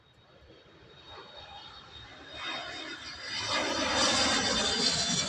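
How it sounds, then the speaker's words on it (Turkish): A jet airplane roars overhead on a cloudy, rainy day, its rumble swelling steadily from faint to loud over a few seconds, with no talking. "Hiç uçak sesi bile etkilemiyor onu"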